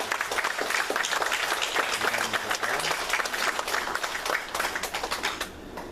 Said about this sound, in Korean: 우리 장로님들 힘내시고 교회 잘 이끌어 달라고 격려의 박수